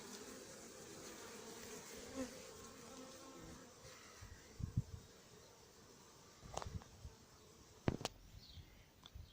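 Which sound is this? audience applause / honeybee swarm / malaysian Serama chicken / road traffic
honeybee swarm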